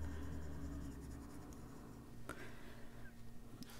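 Derwent Graphitint pencil scratching across paper during coloring, a faint, steady scraping texture with a few light taps, heard close and alone against a quiet room hum.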